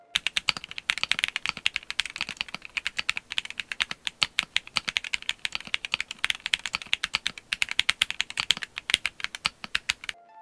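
Typing on a Monsgeek M1W mechanical keyboard after a force break mod, a steady run of close, crisp keystroke clacks with occasional heavier thocks from larger keys, no voices.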